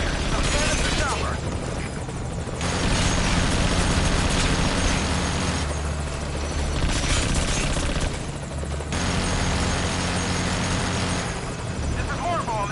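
A military helicopter in Metal Gear Solid V roars loud and close with steady rotor thump, punctuated by gunfire and explosion bursts during a firefight, radio voices speaking over the din.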